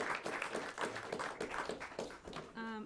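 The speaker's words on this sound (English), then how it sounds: "give a round of applause to Bridget and Sebastian" A room of attendees at a talk on Salem's wind port claps for Bridget and Sebastian, a moderate burst of applause with a voice briefly heard as it ends.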